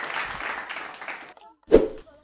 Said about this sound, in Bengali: এই বোনের জন্য হাততালি হয়ে যাক